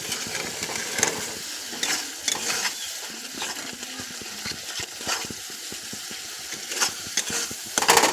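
Egg and potato curry sautéing and being stirred in a pan, with a steady close sizzle and frequent scraping strokes of the spoon throughout, no talk.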